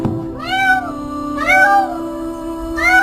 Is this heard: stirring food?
no